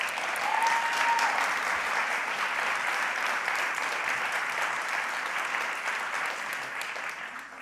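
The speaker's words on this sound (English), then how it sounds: "Let's give them another round of applause." A conference audience claps in one sustained burst, a dense wash of applause that holds steady and then begins to fade toward the end.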